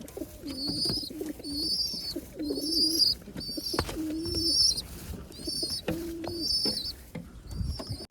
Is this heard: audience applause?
no